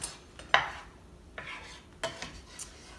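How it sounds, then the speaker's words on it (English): A spatula stirs melting butter around a cooking pan, giving a few scattered scrapes and soft clinks at close range with quiet gaps between them. "Just start stirring your butter around."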